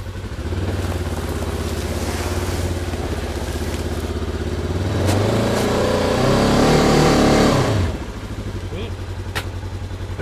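A Ranger utility vehicle engine revs and strains while pulling a tree down with a rope, a steady rumble that swells louder and higher midway before dropping back to idle, with a voice over it.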